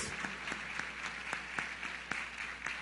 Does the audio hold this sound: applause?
yes